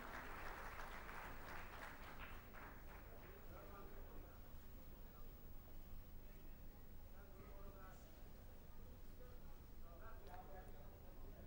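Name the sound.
audience applause welcoming Rahul Gandhi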